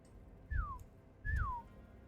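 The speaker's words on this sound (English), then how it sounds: "There's a kind of a quiet whistle. All of you can hear it." Two quiet falling whistles, each a short downward-sliding tone about half a second long, the second slightly longer, set against faint low rumbles in a quiet space.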